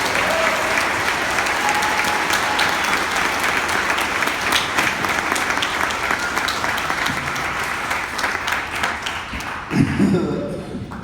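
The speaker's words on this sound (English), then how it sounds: "So let's give them a round of applause," An audience at a live comedy and music show at Angel City gives sustained, loud applause, dense clapping that carries on for about eleven seconds and fades slightly near the end, with crowd noise mixed in.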